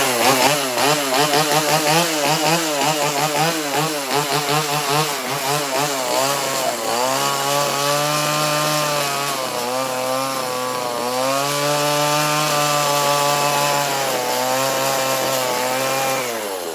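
A chainsaw carving wood roars loud and close throughout, its pitch rising and falling as the throttle surges and the chain bites, then settling into a steadier, heavier drone while cutting.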